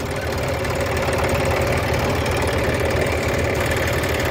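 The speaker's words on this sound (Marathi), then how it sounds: "52 जॉन डिअर हा ट्रॅक्टर" A John Deere 52 tractor engine runs steadily with a close, continuous knocking chug during onion planting in a field, with no talking.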